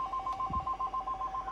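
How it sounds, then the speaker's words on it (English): A telephone trills in a fast, regular electronic ring pattern inside a vehicle cabin, fairly quiet and steady, with a brief low thump partway through. "That's the phone."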